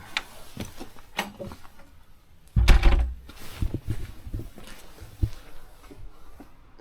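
A wooden door of a mountain bothy being pushed shut, one heavy thump and rattle midway, with a few faint knocks and creaks around it in a quiet room.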